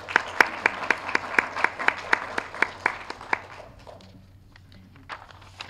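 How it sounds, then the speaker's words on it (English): An audience at a lecture event claps in a sparse, rhythmic patter of distinct hand claps that thins out and fades to scattered claps near the end. "please join me in a round of applause for all of our partners and sponsors"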